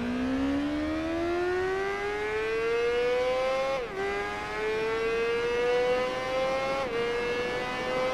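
Honda motorcycle engine in the Tourist Trophy racing game, a loud steady whine rising in pitch as it accelerates, dipping briefly at two gear changes before climbing again, with no talking.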